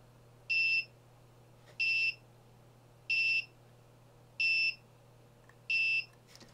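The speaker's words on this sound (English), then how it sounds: "camera extension to turn on and off a buzzer using a transistor." An active buzzer switched on and off by an ESP32 board through a transistor, giving five evenly spaced, steady electronic beeps about a second apart over a low constant hum, loud and close with no talk.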